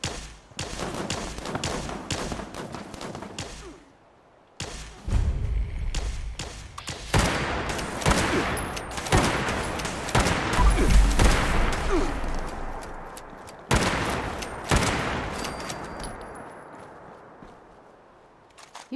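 Hunting rifle fire in the game Fallout 76, with repeated sharp loud shots and an occasional longer burst of gunfire, spread across the scene among footsteps and ambient noise.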